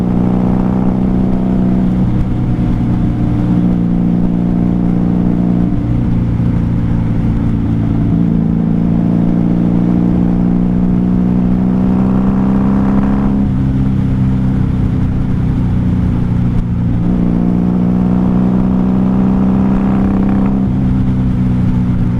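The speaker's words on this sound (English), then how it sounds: "It's cruising in fifth gear because we don't have a sixth. And fourth would be too loud." A 1994 Honda Magna 750 VF750C motorcycle cruises in fifth gear on a night ride, its engine giving a loud, steady drone from up close, with a few swells as the revs rise and fall and wind noise underneath.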